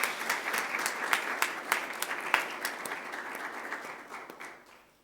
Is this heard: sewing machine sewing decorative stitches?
no